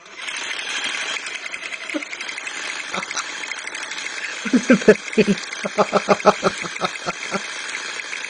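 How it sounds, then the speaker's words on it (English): A reciprocating saw fitted with a paint shaker attachment rattles a spray paint can, a steady buzzing motor with a rapid knocking of the can, loud and close. "Now let's check this paint shaker out in action."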